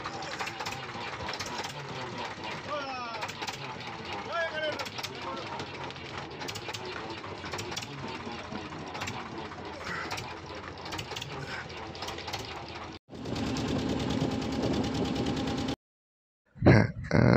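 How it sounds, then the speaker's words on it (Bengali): A double-cylinder boat engine chugs steadily on a Sundarbans river, a close, loud mechanical drone with a clattering rhythm. It drops out briefly, resumes, then cuts off near the end. "এটা হচ্ছে ডবল সিলিন্ডারের বোট আছে।"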